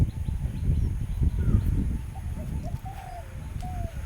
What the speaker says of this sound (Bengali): সকালের ঘুঘু ডাক